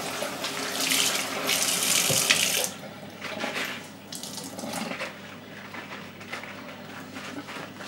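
Kitchen tap runs hard into a sink during cleanup, a loud steady gush for the first few seconds, then quieter splashing and intermittent rinsing water with clinks of dishes.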